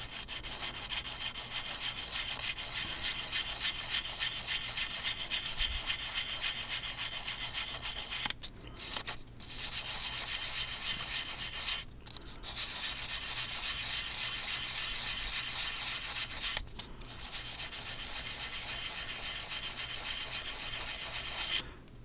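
Sandpaper rubs putty off a plastic model in a steady, close, continuous scratchy hiss of back-and-forth strokes, broken by three or four brief pauses, with no talking.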